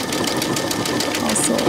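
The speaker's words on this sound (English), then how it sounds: "I'm sewing on the aerial today" A sewing machine stitches an aerial in a steady, fast mechanical whir with even rhythmic clatter, close and continuous for the whole short stretch.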